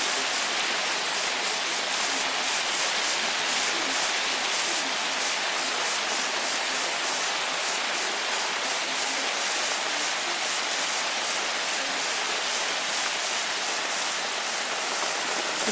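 A constant roar of downpour, rain mixed with big hail hammering steadily nearby in wind, unbroken for the whole stretch.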